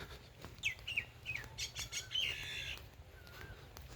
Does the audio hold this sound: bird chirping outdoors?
yes